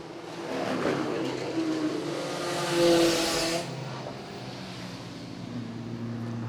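A small vintage race car passing at a vintage grand prix, its engine note rising as it approaches, peaking loudly, then fading away with a lingering drone.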